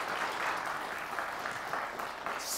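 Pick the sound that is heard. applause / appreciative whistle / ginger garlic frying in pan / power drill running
applause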